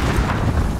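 A grenade goes off in Call of Duty, a loud, dense, roaring burst that fills the whole moment with sustained rumbling noise.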